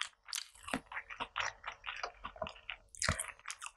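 Close, crisp biting and wet chewing of kimchi fried rice and rolled omelet, with a quick series of crunchy, squishy mouthfuls separated by short pauses, heard alone without speech.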